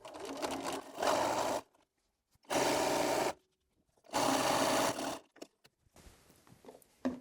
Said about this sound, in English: I'm going to sew the opposite side.